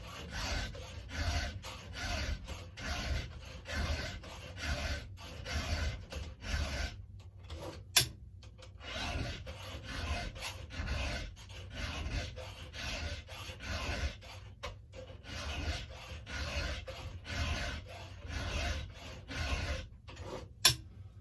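A hand file sharpens a chainsaw chain in a long run of steady, evenly spaced rasping strokes at close range, with two sharp metallic clicks.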